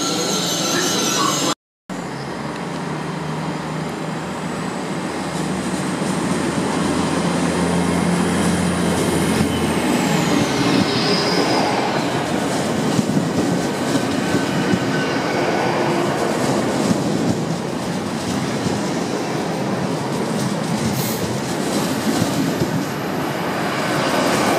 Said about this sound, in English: This, by the way, is what they call the puppy train.